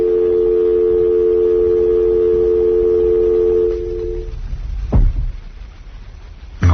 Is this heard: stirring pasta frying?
no